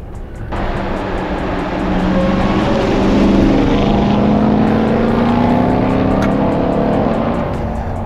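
A 702 hp RAM 1500 TRX pickup in sport mode gives a loud, steady engine roar with rising and falling tones as it is driven hard on the road, with no talk.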